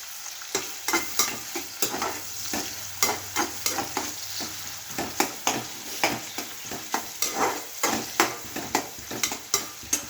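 Onions frying for palav in a pan with cumin and poppy seeds, a steady sizzle broken by repeated sharp scraping stirs of a spoon, close and loud with no talking.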